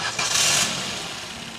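A Maruti Swift's engine catches on the first crank, a brief loud burst that settles within a second into a quiet, smooth idle, heard close up with no one speaking.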